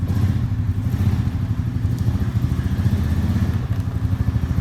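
Honda vehicle engine driving through snow, a loud rhythmic low chugging with clattering pulses, close and continuous, with no voices.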